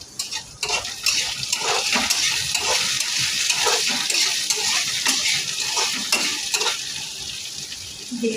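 Pieces of ivy gourd cooking in a pan for chutney get stirred with a metal utensil, giving rhythmic scraping and clinking strokes over a constant close sizzle.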